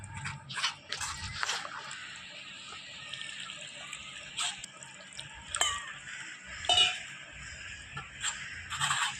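Sago pearls rinsed with poured water in a kitchen, giving soft wet sloshing and squishing with scattered drips and splashes, fairly faint and irregular.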